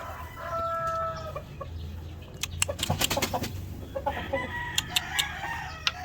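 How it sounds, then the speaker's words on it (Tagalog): White chickens cluck and squawk in a cluster of short, sharp calls, with steady low barnyard noise underneath and no one talking. "yung puti nating mga manok"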